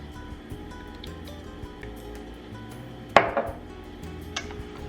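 Chicken batter mixed with hot sauce in a bowl, giving soft scraping and a sharp clink of utensil against the bowl partway through, with fainter taps before and after.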